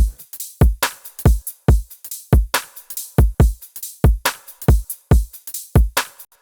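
UK bass drop drum loop with a switched kick pattern: punchy, deep kicks and crisp snares repeat in a tight syncopated groove, loud and dry with no voices.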